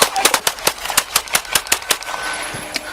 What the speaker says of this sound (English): That's a lot of gunshots while he was down.